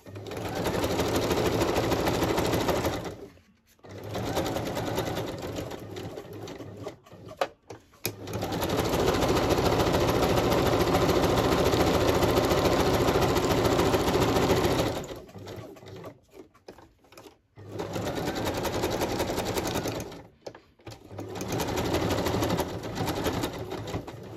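A sewing machine stitching a zigzag on painted mixed media tags hums in loud, rapid bursts close up, running for several seconds at a time, separated by short pauses and a few brief stop-start stretches.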